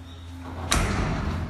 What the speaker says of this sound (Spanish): La puerta se cierra sola.